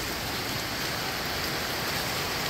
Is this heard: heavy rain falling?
yes